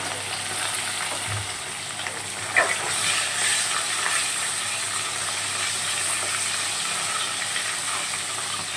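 Fish shallow-frying in oil in a pan for a Bengali fish dish, a steady soft sizzle with light crackles and one brief clatter, no talking.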